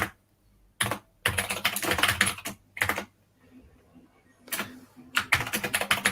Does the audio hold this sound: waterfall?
no